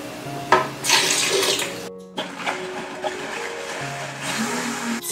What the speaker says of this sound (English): Put it in here and put some water.